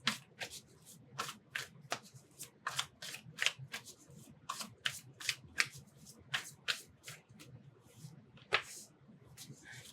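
Tarot cards are shuffled and drawn from a deck, giving a dense run of crisp riffling flutters and slaps, close and fairly loud, with no speech over them.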